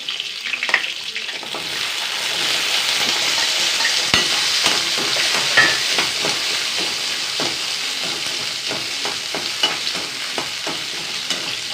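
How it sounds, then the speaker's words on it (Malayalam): Curry ingredients sautéing in a pan with dried chillies, crackling and sizzling close by as a spoon stirs and scrapes in irregular strokes, with no voices. "നന്നായി വഴറ്റി കൊടുക്കുക"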